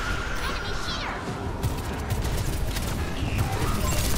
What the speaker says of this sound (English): Another artillery again.